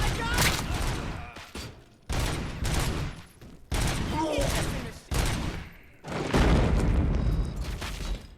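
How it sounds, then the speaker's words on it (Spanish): In RoboCop Rogue City, heavy gunfire and booming impacts arrive in several long, loud bursts separated by short pauses, the last burst with a deep rumbling blast. "¿quién me está disparando?"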